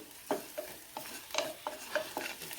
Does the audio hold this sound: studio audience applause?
no